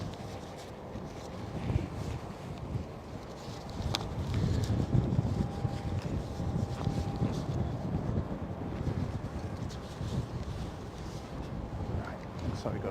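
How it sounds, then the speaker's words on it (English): Gusty wind buffets the microphone outdoors at London City Airport, a constant low rumble with a faint tone partway through and no other distinct sounds. "The wind is making it somewhat difficult."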